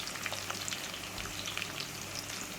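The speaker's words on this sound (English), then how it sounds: "So I'm going to saute the fresh herbs until translucent." Fresh herbs sautéing in a pan for a Jamaican corned beef soup, a soft continuous sizzle with faint crackles and pops, steady and close with no talking.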